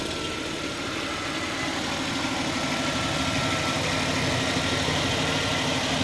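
A 1996 Jaguar XJ6 straight-six engine idling, a steady even rumble heard up close without a break.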